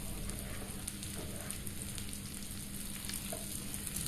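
Chopped onion, carrot and capsicum fry in a pan for egg chow, a soft, steady sizzle with faint crackles, low in level and without voices.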